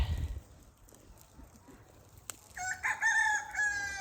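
A rooster crows in the middle distance after a quiet stretch, preceded by a brief low thump and faint background noise.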